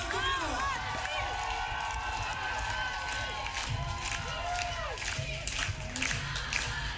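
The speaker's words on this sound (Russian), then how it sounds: "The crowd is chanting." Concert audience claps and cheers after a stage performance, a sustained wash of applause with shouting voices and chanting, moderately loud and continuous.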